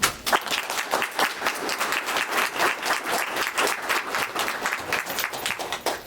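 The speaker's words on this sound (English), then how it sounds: "Okay, so big round of applause." An audience at a personal branding talk claps in a dense, even round of applause that carries on steadily throughout.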